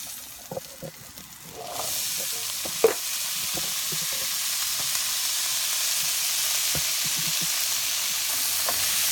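Garbanzo beans and onion frying in a pan for chana masala, a steady loud sizzle that swells after the beans go in, with occasional stirring clicks and scrapes of a utensil throughout.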